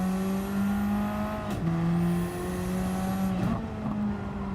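A racing car engine in the Gran Turismo video game drones with steady, sustained tones that dip and rise briefly at gear changes, alone and at moderate level.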